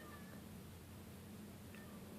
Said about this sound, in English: I hear a cat crying outside my room.